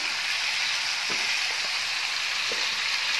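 Chicken frying with turmeric in a pan gives a loud, constant sizzle, with a few soft scrapes as the pieces are stirred.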